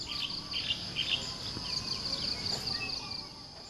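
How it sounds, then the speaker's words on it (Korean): Crickets chirp steadily in a fast, high, overlapping trill, kept at dawn for sale as fried food at a night market in Siem Reap, Cambodia. The sound is soft and even, with no voices. "새벽마다 일어나 귀뚜라미를 챙기는 건 이 집 큰딸 스레이의 몫입니다."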